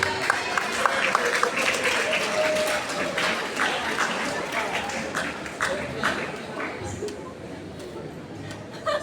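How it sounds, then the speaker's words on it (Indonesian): Audience applause at a university student orientation session on spiritual material, loud crowd clapping that begins strong and gradually thins out, with some chatter and crowd murmur mixed in. "Tepuk tangan."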